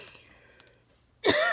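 A single harsh cough bursts out close and loud after a quiet stretch of faint room noise.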